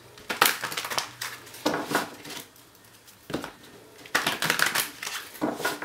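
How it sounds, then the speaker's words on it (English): Bursts of crisp, papery rustling and clacking as large, rigid tarot cards are shuffled, in uneven clusters with short pauses between, close by and moderately loud, with no talking. "A little bit more shuffling."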